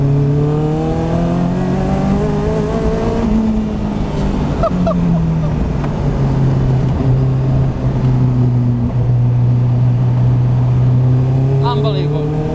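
A Caterham 620S sports car engine pulls hard while driving, its loud close drone climbing in pitch, easing briefly, then rising and holding steady over the full stretch.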